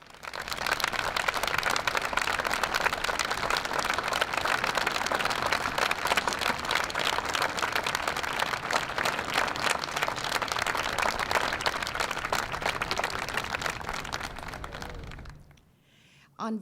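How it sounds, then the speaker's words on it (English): A sustained wave of audience applause rises for veterans standing at a Veterans Day gathering, dense and steady for about fifteen seconds before cutting off. "can we give them a huge round of applause?"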